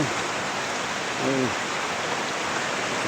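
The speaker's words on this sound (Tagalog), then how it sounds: "Wala, lakas na naman ng ulan dito." Heavy rain pours steadily in a dense, continuous hiss, with a brief faint tonal sound partway through.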